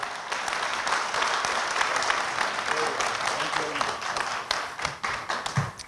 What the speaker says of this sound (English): can we have a big round of applause for the wonderful, participation, interaction, wonderful answers